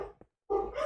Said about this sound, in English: Sorry for my dogs were barking in the background.